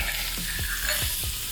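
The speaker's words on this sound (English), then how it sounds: "I may need to give this a stir as we go here." Garlic frying in a pot for wedding soup while being stirred: a steady bright sizzle throughout, with a few soft scraping strokes of the spoon cutting through, close and alone without talk.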